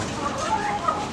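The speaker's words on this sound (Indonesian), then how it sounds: "Dan ini ada saya punya ayam KUB juga" KUB chickens cluck in a backyard laying-hen coop, with short, fairly close calls over steady barnyard background noise.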